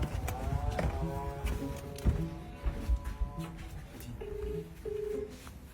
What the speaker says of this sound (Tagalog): tawagan mo natin si Kuya Ronel. Tawagin natin